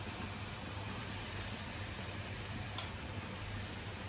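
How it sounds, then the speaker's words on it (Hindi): Sweet corn kernels coated in cornflour frying in moderately hot oil, a steady close hiss and crackle of sizzling that holds evenly throughout with no voices. "थोड़े थोड़े करके हम इसे फ्राई करेंगे"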